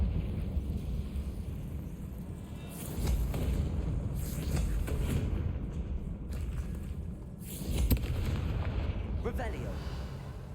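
Explosions from the Confringo fire spell in the Hogwarts Legacy video game burst as a few heavy booms and rumbling blasts over steady background noise, with a player talking over parts of it.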